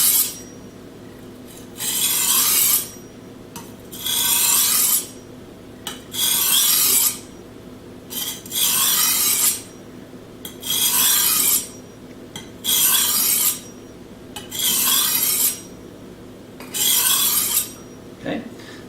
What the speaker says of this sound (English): do the other side of the blade. Trying to get my 20 degrees in.